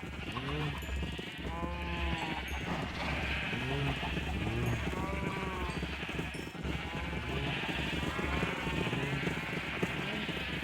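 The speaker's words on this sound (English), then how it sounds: "My farm was kind of getting overrun with sheep again" Blocky Minecraft sheep bleat repeatedly on an overcrowded farm, several overlapping wavering calls in close succession over a steady background hum, with faint talk now and then.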